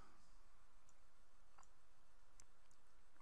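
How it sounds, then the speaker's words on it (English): Computer mouse clicks while saving a desktop screenshot: a few sharp, quiet, isolated clicks spaced irregularly over faint room hiss. "So we'll click on it and there's the autosave working. And I'll just click save."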